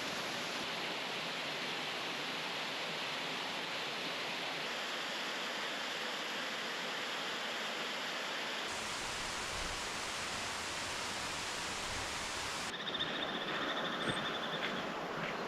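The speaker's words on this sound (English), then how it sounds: "a really peaceful walk with the sound of the flowing water and some small cascades and waterfalls" Flowing water with small cascades and waterfalls along a trail in the North Cascades, a steady, dense rushing wash heard close and continuous throughout, with no voices.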